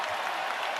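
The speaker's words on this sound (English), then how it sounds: "Crowd getting up." Basketball arena crowd at an NBA Finals playoff game, Thunder versus Pacers, a broad, fairly faint roar of cheering and applause from a distance that stays even through the short moment.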